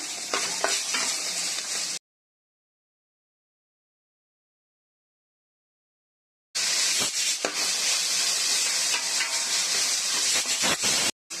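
Onions sauté in hot oil with salt and green chili for a spicy fish curry, giving a steady close sizzle with stirring scrapes, cut by a few seconds of silence before the frying resumes.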